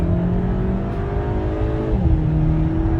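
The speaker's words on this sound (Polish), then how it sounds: "przełączamy na S same obroty wzrosły, dodajemy gazu" A VW Scirocco 2.0 TFSI switched into S mode accelerates hard, its engine note loud and close with a steady drone that rises in pitch as revs climb, continuous throughout with no talk.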